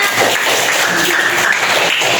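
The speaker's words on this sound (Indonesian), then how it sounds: "Beri tepuk tangan anak-anak" Children in a classroom applaud during a guidance and counselling lesson, a dense, steady patter of many small hands clapping together close by for a couple of seconds, without talk.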